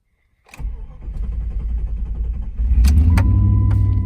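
Jeep WJ with a 4.7 engine cranking and firing up: a brief starter whir, then the motor catches and settles into a loud, steady idle, heard close with no talk.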